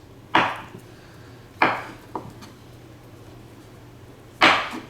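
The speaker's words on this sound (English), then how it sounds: "I'll take a half a stick of butter and I'll just cut it like this" A knife cutting through half a stick of butter on a board, three loud knocks of the blade with one softer tap between them, close and clear with no talking.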